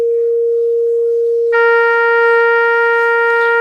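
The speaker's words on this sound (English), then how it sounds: "I will go ahead and turn on the sine wave note and then turn on the trumpet note" A pure steady tone sounds alone, then a brighter brass note with rich overtones joins it at the same pitch, both held evenly and loud.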